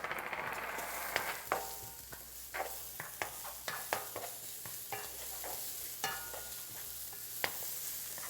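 Green onion and garlic stir-fry in a pan for crab-stick fried ramen, with a steady close sizzle and about a dozen sharp spatula scrapes and taps against the pan, no talking.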